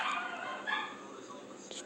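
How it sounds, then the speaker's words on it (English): A dog keeps barking over and over inside a grandmother's house, short faint barks in the background beneath a person talking. "my grandma's new dog named Bo is just barking over and over again."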